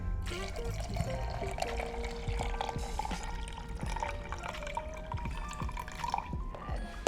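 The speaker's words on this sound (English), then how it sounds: "I normally don't even look at how much water I'm putting in." Water poured into a homemade almond milk maker, a steady trickling and dripping pour with small splashes that continues throughout, fairly close and with no talking.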